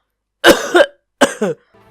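Two sharp, close coughs in quick succession, the second a double hack, then a faint breathy trail, with no speech around them.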